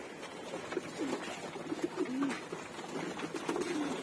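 Pigeons coo repeatedly inside a loft where they are kept locked in, their rolling throaty calls recurring close and moderately loud across the stretch.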